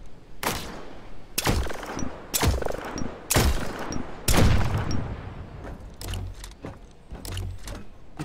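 Repeated loud gunfire bursts from the video game The Signal From Tölva, several separate volleys with short gaps, ending in lighter shots over low rumbling thuds.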